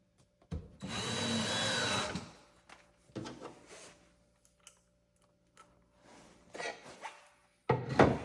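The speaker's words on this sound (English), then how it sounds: "You're going to screw the wood with two screws to the side" Power drill driving long, thin screws through wood panels into the sides of a kitchen cabinet, in several short bursts: one longer whir, then brief intermittent spins and taps, close by.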